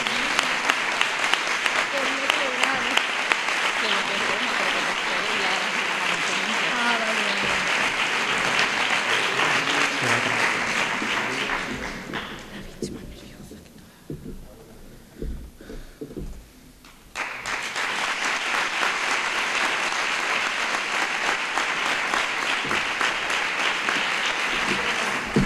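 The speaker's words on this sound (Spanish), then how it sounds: "Un fuerte aplauso para ella, de tercero ESO B." A school gala audience in a hall applauds a finalist with sustained loud clapping that dips and thins briefly midway before swelling back to full strength.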